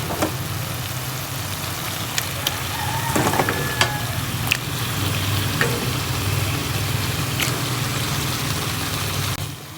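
Washed chicken pieces go into hot coconut oil, producing a loud, steady sizzle and crackle with occasional sharp pops and scraping stir clicks throughout.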